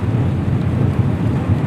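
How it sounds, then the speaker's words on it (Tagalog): Heavy rain with thunder: a loud, dense low rumble and steady roar of downpour, continuous and close with no pauses. "May ginuog ko kusog kayong ulan."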